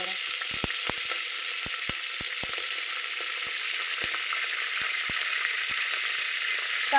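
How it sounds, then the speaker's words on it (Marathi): Cumin and mustard seeds crackle in hot oil, a steady sizzle broken by sharp, scattered pops every fraction of a second, close and fairly loud, with no voices. "आधी जिरी मोहरी चांगली तडकू द्यायची बघा"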